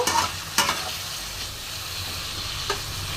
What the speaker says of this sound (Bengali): আমি একটু ভালো করে শিমটাকে ভেজে নেব